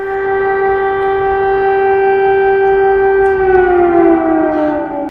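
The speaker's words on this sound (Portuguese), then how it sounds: "O som da sirene que alertava a população para o risco de novos ataques podia ser ouvido em toda parte" A loud air raid siren wails steadily on one sustained tone, its pitch sliding downward toward the end.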